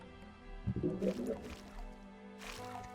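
A character from Gothic 2 splashes into water, a short wet squelch and slosh near the one-second mark followed by a softer trailing splash, quiet and close.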